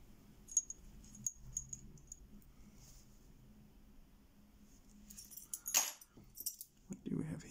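Metal keys from a key collection, including wafer keys, jangle and clink in short bursts near the start and again louder toward the end, with a quiet voice in between.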